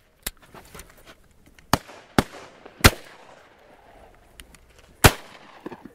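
Shotgun blasts during a dove hunt in El Centro, California, several sharp outdoor reports spaced irregularly, some loud and close, others fainter and farther off, with quiet ambience between.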